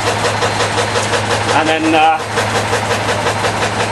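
A backyard powerplant engine runs steadily, driving an alternator with a constant mid-pitched drone and low hum, and someone talks over it briefly.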